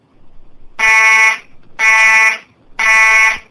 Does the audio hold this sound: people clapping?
no